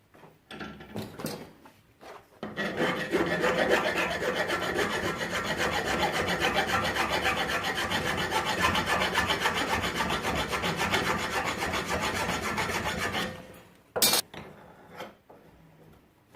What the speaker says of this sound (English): And I'll just take those burrs off from the MIG welder.